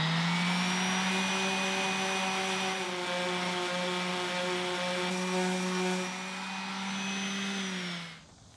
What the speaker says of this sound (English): now I'm going to move on to an orbital sander